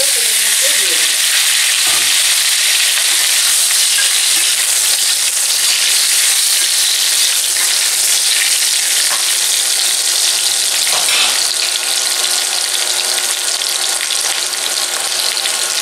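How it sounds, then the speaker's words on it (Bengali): Boiled potatoes frying in hot oil with cumin seeds, dried red chillies and bay leaf, a loud, dense, continuous sizzle and hiss close up, with faint stirring underneath and no voices. "সেদ্ধ করে নিয়েছি আলুটা তেলের মধ্যে দিয়ে দিলাম।"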